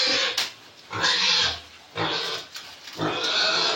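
Pigs fed maize plants grunt and squeal close by in several loud bursts with short pauses between them, with no talking.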